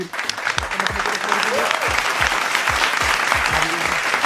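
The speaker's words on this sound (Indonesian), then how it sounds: "Berikan tepuk tangan dulu untuk" Audience at a church youth event claps steadily, a dense wash of hands joined by low rhythmic thumps like a beat or stomping, with faint voices and whoops mixed in.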